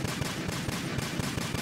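Rapid automatic gunfire in Metal Gear Solid 2, a steady burst of evenly spaced loud shots in quick rhythm with no talking.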